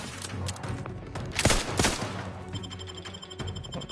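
Gunfire in Outer Worlds 2 comes as rapid, overlapping shots and bursts at close range, peaking loudest in the middle with continuous combat noise around them.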